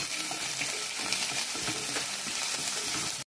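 Ginger hits hot oil in a pan and sets off a loud, dense, continuous sizzle and crackle up close that holds steady and then cuts off abruptly.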